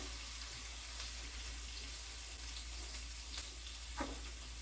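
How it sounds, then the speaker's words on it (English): Red onion hits melted butter in a soup pot, giving a faint, steady sizzle with a low hum underneath and a couple of soft utensil clicks. "So I go ahead and add the red onion in there."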